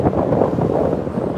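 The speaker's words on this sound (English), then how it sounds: "it's very windy" Wind buffets a microphone outdoors on a street in Tokyo, producing a loud, continuous low rumble throughout with no talking.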